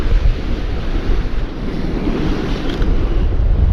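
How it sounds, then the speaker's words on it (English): Ocean waves coming up on a shore, a continuous rushing surf with wind buffeting the microphone throughout and no voices. "I'm going to try and capture a shot of the waves coming up"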